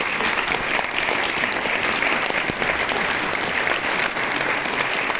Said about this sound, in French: si vous voulez bien l'applaudir